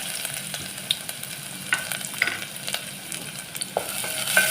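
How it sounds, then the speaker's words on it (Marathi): Chopped onion fries in hot oil in a cooking pot for misal stock, with a soft continuous sizzle and repeated scraping stirs of a spoon against the pot, close and alone without speech. "तेल गरम झालंय, आता आपण त्यात कांदा टाकून घेऊया."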